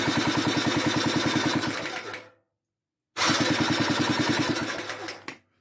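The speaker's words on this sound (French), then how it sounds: "Là, le bruit qu'on entend, c'est le cric." Ratchet on the chain drive of a homemade buggy with an 85 cc engine, where a misassembled sprocket skips, giving a fast, loud, regular clatter in two bursts of about two seconds split by silence.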